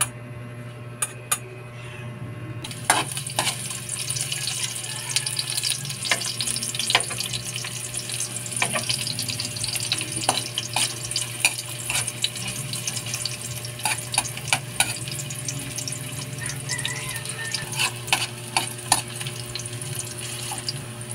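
Aromatics sautéing in a hot pan for Filipino pork kaldereta, a steady close sizzle and crackle with repeated clinks and scrapes of stirring running throughout, with no one talking.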